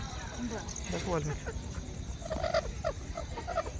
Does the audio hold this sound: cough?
no